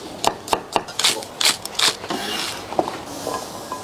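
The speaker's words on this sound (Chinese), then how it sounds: "切成葱姜蒜。" Knife chopping scallion, ginger and garlic on a cutting board for a seafood dry pot, a run of sharp close chops in quick succession, then a softer stretch of scraping and light knocks.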